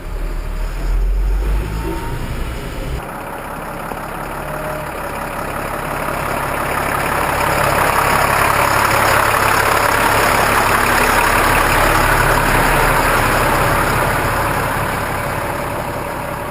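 An M1078 military truck engine drones steadily while driving, with a low rumble and road noise that swell gradually over the stretch; close, continuous and without speech.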